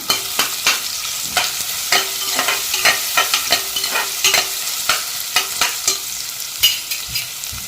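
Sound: onion sautéing in oil in a pressure cooker

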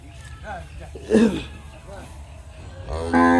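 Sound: cattle mooing at a livestock loading

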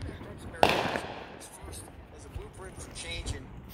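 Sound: 4th of July fireworks

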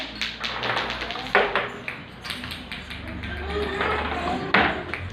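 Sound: beads knocking against a cup in a children's game

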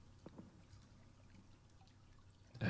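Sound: water pouring in a video game, SCP-847

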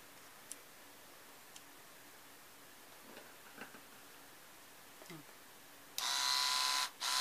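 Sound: battery-powered eyebrow and bikini trimmer running

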